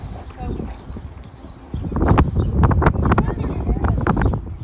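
Horse hooves clip-clop in an irregular series of sharp knocks, close by, growing louder after a quieter start, with some background noise.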